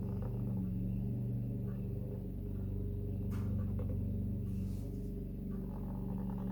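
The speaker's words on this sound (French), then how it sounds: "Alors mon mari il est en train de tondre." A lawn mower runs steadily in the background with a low, continuous droning hum that stays even throughout, heard at a distance with no voices.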